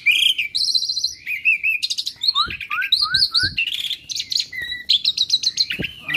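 An Asian pied starling, a tame pet bird, calls in a lively, continuous stream of loud whistles, chirps and warbling phrases up close, with no talk over it.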